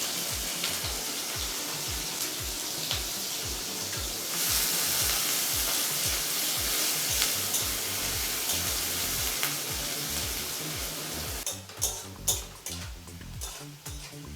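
Thinly sliced onion frying in hot oil: a steady crackling sizzle runs throughout, broken by regular rhythmic stirring strokes, then sharper clinks and scrapes of utensils near the end.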